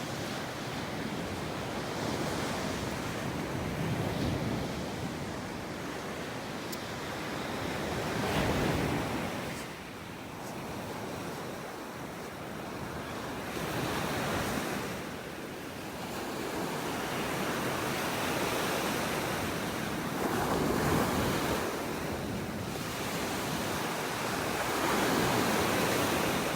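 Gulf of Mexico waves roll onto a beach in North Naples, Florida, at dawn, each surge swelling and receding in a slow rhythm every few seconds, with a light wind rush over the mic and no voices.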